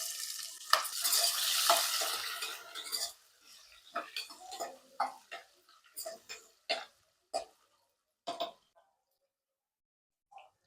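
Onion frying in oil with whole spices and bay leaf for veg pulao sizzles loudly at first, then fades into a string of separate clinks and scrapes of a spoon against the pan.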